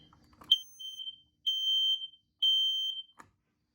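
A Kidde smoke alarm, part of a wall-mounted alarm collection, sounds three loud, shrill, steady beeps of roughly a second each with short gaps, alone after a brief low thump at the start.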